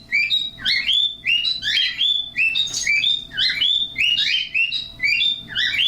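Pet birds chirping nearby in quick repeated bursts of high bright tweets and trills, loud and continuous with no speech.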